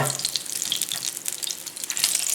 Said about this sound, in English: Give them a good toss in there, and I put them back in the pan again.